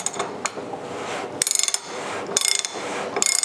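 A wrench on an old electric water heater element, heard as close, quick ratcheting clicks in several short bursts with a few isolated clicks and scrapes between them.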